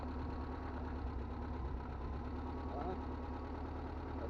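A 4x4 overland vehicle's engine runs steadily in first gear, a continuous low rumble held at an even level throughout, with no talk over it.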